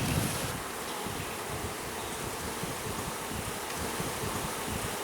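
A swarm of honey bees being split into a new hive drones in a dense, continuous buzz. It holds at a fairly soft, even level throughout.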